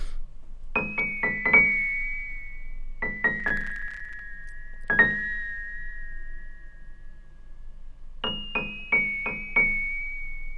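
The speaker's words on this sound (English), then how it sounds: "Next up was this vibey top line on the piano." Sparse piano phrases with a few quick notes each, ringing out into long soft sustains, three separate groups with quiet space between.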